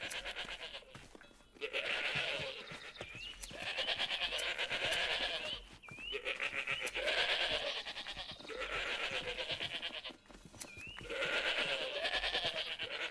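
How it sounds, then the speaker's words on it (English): Loud, wavering sheep bleats from modded Minecraft come in repeated long bursts, each lasting a few seconds with short gaps between. "Man, the sheep are loud."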